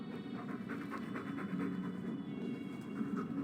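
A Mabari war dog in Dragon Age 2 pants in quick, rhythmic breaths, close and moderately quiet, over a low steady background hum.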